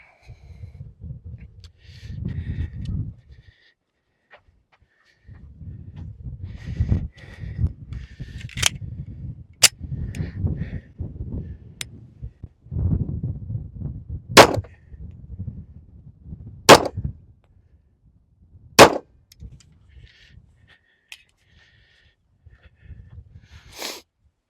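Kimber Stainless II .45 ACP 1911 pistol fired with 203-grain bullets at seven yards, several loud sharp shots spaced a few seconds apart over rustling and handling noise.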